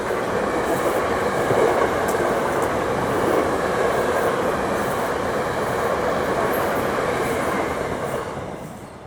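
A train rolls past a level crossing, a loud, steady rumble with a faint rhythmic clatter from the wheels, lasting several seconds before easing off slightly at the end.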